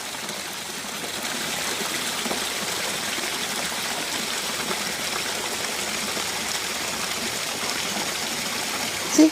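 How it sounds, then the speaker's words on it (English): A small garden waterfall splashing into a wildlife pond, a steady close rushing and trickling wash of water that holds evenly throughout, with a brief knock at the very end and no talking. "See the waterfall."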